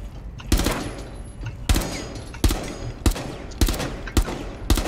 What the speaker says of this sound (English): I'm just shooting his faceplate.